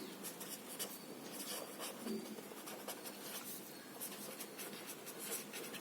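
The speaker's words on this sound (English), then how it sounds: "First I have to write the heading." Chalk or marker writing a heading on a classroom board during a seventh-grade maths lesson, a continuous scratchy scrawl of short strokes with steady rhythm, fairly close and moderately quiet.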